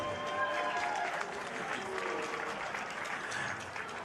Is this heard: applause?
yes